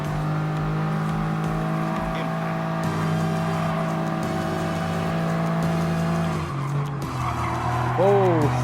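The tyres of a Honda kei car squeal and skid in Gran Turismo Sport over a sustained engine drone, with a sharper squeal rising near the end while a voice talks over it.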